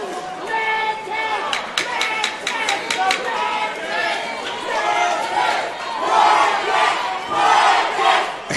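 Rival chants from the crowd at an XFO fight between MacRae and Muriente, loud rhythmic shouting voices rising and falling in waves over general crowd noise.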